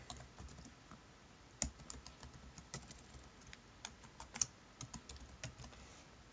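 Keys clacking on a computer keyboard while code is entered, an irregular run of light, close taps with a couple of sharper strikes, quiet and alone with no talk.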